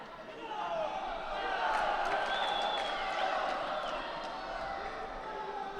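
A judo arena crowd in Almaty baying for a penalty, a sustained roar of voices that swells and stays loud throughout, with a commentator talking over it.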